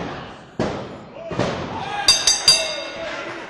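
A fireball bursts during a wrestling match, heard as a few sharp, bright pops and bangs amid crowd noise and thumps, while commentators talk over it.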